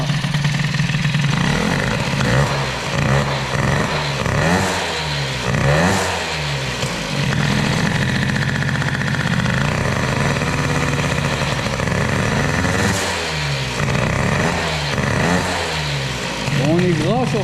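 A Peugeot 103 moped with an air-cooled cylinder runs close by, its small two-stroke engine blipping and revving repeatedly between a rough, uneven idle, with loud rising and falling throttle surges throughout.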